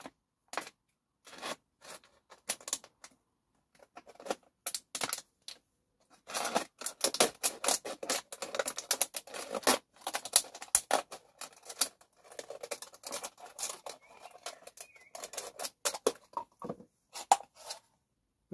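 Scissors snip through a plastic bottle to remove its bottom for a garden slug trap, giving a run of close, crisp cutting clicks and crunches, sparse at first and then a dense, steady stretch of snipping.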